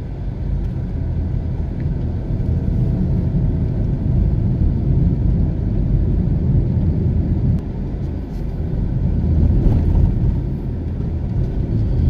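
Steady, loud low rumble of a car driving through the streets of Morant Bay town in St. Thomas, Jamaica, with continuous road and engine noise from inside the vehicle.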